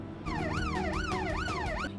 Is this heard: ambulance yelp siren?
yes